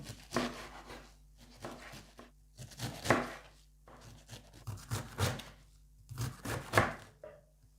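A knife chops through half a head of Chinese napa cabbage on a board, giving clusters of sharp crunchy strokes in uneven bursts with short pauses between them.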